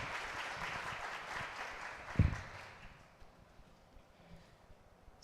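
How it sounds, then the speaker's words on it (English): Applause for the panelists of an online budget webinar swells briefly, then fades into quiet, with a sharp thump partway through and faint low rustling afterward. "Another round of applause for our panelists."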